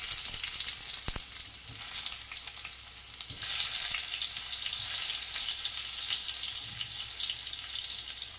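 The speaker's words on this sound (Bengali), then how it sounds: "এবার ভেজে নেব।" Pointed gourd pieces coated with salt and turmeric frying in about two tablespoons of oil in a wok, a steady close sizzle with occasional soft stirring knocks.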